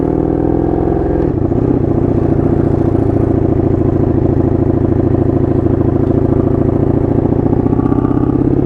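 A 1982 Honda Magna V45 VF750C motorcycle's V4 engine runs loud and steady while riding, a dense throbbing rumble with a brief dip near the start before settling into a constant drone, with no talking.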